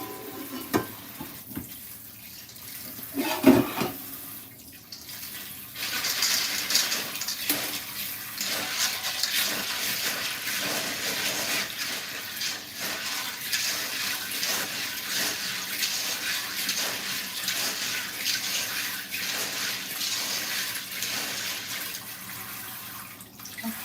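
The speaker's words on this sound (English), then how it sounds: "So let's wash the beans. You have to wash them well so that there's nothing left in the beans." Beans rinsed under running water, a steady rushing stream with sloshing and rattling as they are stirred by hand, close and continuous with no talking.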